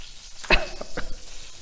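Short burst of crackling as mustard seeds and asafoetida hit hot oil, with a few sharp pops and spits close by, then a quieter hiss.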